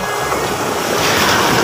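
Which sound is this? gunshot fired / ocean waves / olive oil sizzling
ocean waves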